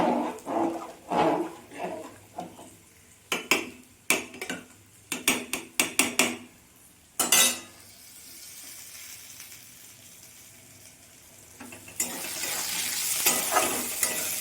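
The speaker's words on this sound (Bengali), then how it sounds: "সবজিগুলো দিয়ে আমি ভালো করে নেড়ে চেড়ে দেবো, নাহলে তলায় জমে যাবে।" Vegetables for khichuri fry in a pot while a utensil scrapes and clatters in a run of sharp stirring knocks, then a quieter sizzle that grows louder toward the end.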